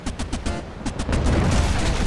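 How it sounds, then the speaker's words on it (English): Ship cannons fire in a rapid, rolling volley during a naval battle in Naval Action, loud booming blasts overlapping with rumbling explosions that thicken toward the end. "he hit me with the front cannon"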